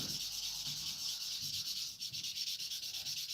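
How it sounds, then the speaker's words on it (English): Steady, close scratchy rubbing of sandpaper over filler on a plastic MiG-15 model kit, continuous hiss-like strokes with slight rhythmic variation and no talking. "I'm still sort of sanding away at it."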